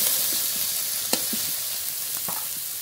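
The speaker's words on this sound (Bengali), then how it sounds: "এবার বাকি মশলাগুলো দিয়ে দেবো। আদা বাটা, রসুন বাটা" Ginger and garlic paste sizzles steadily in hot oil in a frying pan, a bright continuous hiss broken by a few soft clicks of stirring, with no talking.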